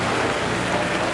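Steady morning rain beats down without letup, a dense, even hiss that fills the whole moment with no voices.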